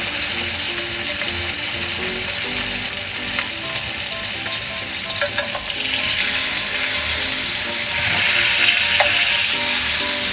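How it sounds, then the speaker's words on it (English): Beef tenderloin for beef Wellington sears in a hot pan, giving a loud, continuous sizzle and crackle with occasional stirring or shifting noises and no talk. "Now we'll take both ends and give it a nice sear."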